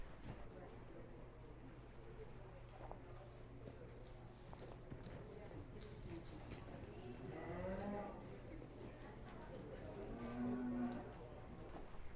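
Cattle moo several times at an open livestock show, with drawn-out lowing calls rising over a murmuring arena background, moderately distant, while a voice speaks over the scene.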